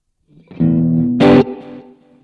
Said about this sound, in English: Reverb, I would like some reverb,